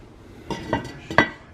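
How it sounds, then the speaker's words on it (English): Red beans with ham hocks simmering in a pot get stirred, a few distinct clinks and scrapes of a utensil against the pot over a quiet background. "Stir these around again, check them"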